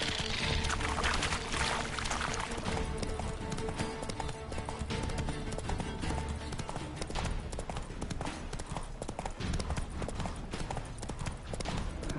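Horse hooves clip-clopping on the ground in the Witcher 3 video game, a steady trotting rhythm of hoofbeats running throughout over a background of ambient noise and faint music.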